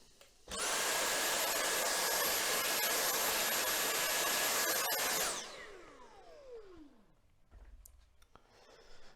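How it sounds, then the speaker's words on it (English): A vacuum cleaner hoovers up drilling mess on a model railway layout: the motor switches on, roars steadily and loudly for several seconds, then winds down with a falling whine. "So just need to hoover the mess up."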